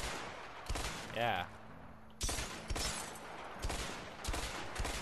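Single-fire assault rifle shots in the video game A Way Out, sharp separate bangs spaced about a second apart that cut through steady game background noise, with a brief spoken word between shots.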